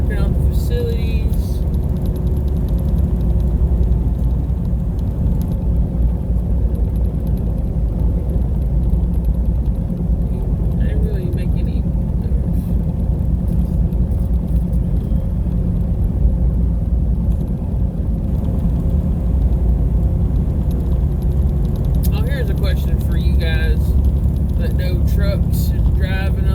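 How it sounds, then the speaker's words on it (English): A Freightliner Cascadia truck drives on a highway, a steady low engine and road rumble filling the cab throughout, with a person talking over it. "I know this is a Cascadia made by Freightliner"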